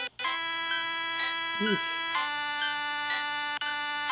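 A phone in a Pokemon creepypasta game rings on and on, a steady electronic tone with bright harmonic bursts repeating about once a second, loud and unbroken, with a short spoken exclamation partway through.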